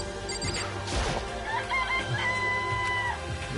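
A chicken in the Danganronpa video game clucks and crows in a few stretched, wavering calls, clear and near, with a faint voice briefly underneath.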